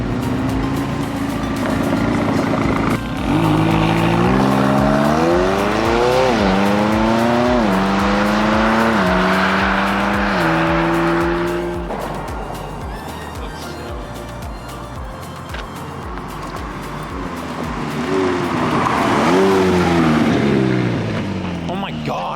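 A supercar engine revs and climbs through gears as it drives off, the note rising and falling in repeated pulls before settling, loud and close, with people talking over it.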